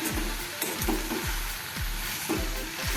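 Okra being sautéed in oil over a low flame sizzles and crackles steadily, close by, with a soft regular scraping as it is stirred in the pan.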